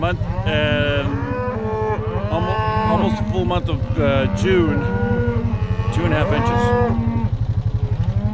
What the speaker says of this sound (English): Let's move these cattle. They're making too much noise.